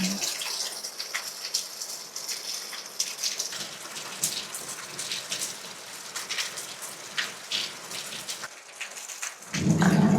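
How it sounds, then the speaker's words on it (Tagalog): Steady rain falls in the Korean countryside on an overcast day, a continuous hiss of drops pattering on surfaces with scattered louder drips, close and even throughout with no talking. "Hindi pa rin tapos ang ulan."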